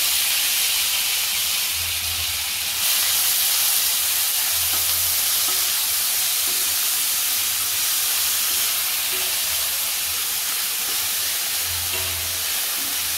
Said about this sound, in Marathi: चांगला परतून घेते कांदा।